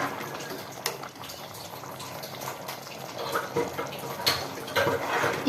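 Poori curry of peas and potato, with flour stirred into it, simmers in a pot, giving close bubbling and hissing with occasional sharper pops and splashes that build slightly over time.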